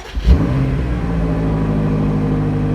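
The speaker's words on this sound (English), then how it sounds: "Having the nice V8 grumble starting up here." A 2020 BMW M8 Competition V8 starts with a sharp crank and flare, then settles into a loud, steady, deep grumbling idle heard up close.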